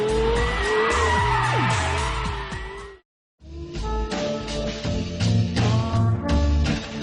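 Porsche Carrera GT supercar driven hard, its engine revving loudly with sharp tyre squeals and skids, broken by a brief silent cut before more hard acceleration and gear changes.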